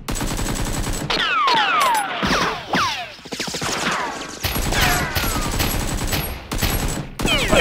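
Dense, sustained gunfire with rapid bursts and repeated shots from a film gunfight against a criminal group, loud and continuous across the whole stretch, with near and far reports overlapping and brief pauses.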